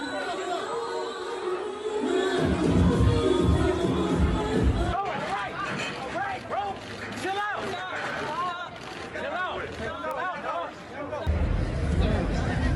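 Loud party crowd hubbub with overlapping chatter and shouting voices at a boxer's birthday party at the Sunset Room in Los Angeles, as a scuffle involving a rapper breaks out; dense and continuous, with some voices standing out close by.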